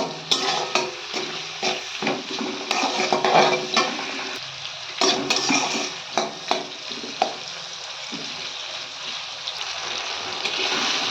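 Tomato pieces and salt sizzle in onion gravy in a pan, with steady frying hiss broken by repeated scrapes and clinks of stirring.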